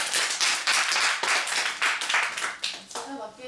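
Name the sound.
audience clapping at a workshop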